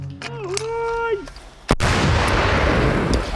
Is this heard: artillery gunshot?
yes